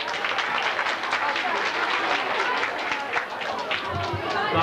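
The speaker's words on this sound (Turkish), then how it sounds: "Alkışlıyoruz." Applause from wedding guests during a gift presentation, a dense steady patter of many hands clapping at close range with a busy crowd murmuring underneath throughout.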